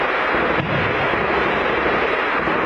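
Continuous heavy rumbling barrage of artillery shelling explosions on the city of Avdiivka, dense and loud throughout, with a sharp blast cutting in near the start.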